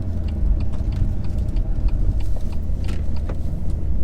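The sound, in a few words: 2019 BMW M2 Competition car driving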